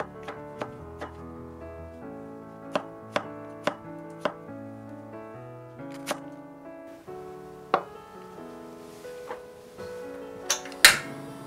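Sparse, sharp chops of a knife cutting vegetables into chunks on a cutting board, a dozen or so irregular strikes over soft background music.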